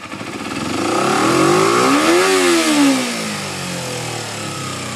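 A Kawasaki Ninja 250 motorcycle with a hanging-rev problem is opened to wide open throttle, its engine climbing loudly to a high-pitched peak, then easing down and hanging at an elevated steady drone instead of dropping back to idle.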